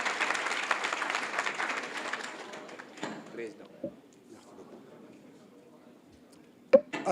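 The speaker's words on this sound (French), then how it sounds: "Vos acclamations, s'il vous plaît, messieurs, dames." Audience applause welcoming a speaker at a political rally, loud and steady for about three seconds before fading into scattered claps and murmuring crowd noise, with a sharp knock near the end.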